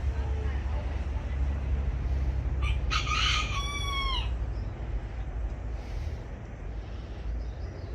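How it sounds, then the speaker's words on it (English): An old rooster crows on a rural cacao farm in Jaguey Rincon, Puerto Rico, a single rising call near the middle, set against steady outdoor ambience and a low rumble. "It's like the roosters are crowing."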